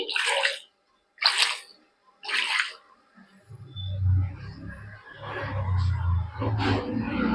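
Short bursts of splashing water, then a steady low rumbling pour with crackling and rustling as water runs over light, dry puffed rice.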